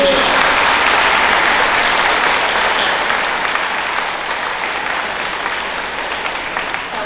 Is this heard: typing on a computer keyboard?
no